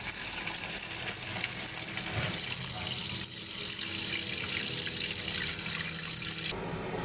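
Tap water gushes steadily into a sink while pieces of hilsa fish are rinsed, a loud, continuous splashing flow with small shifts as the pieces are handled.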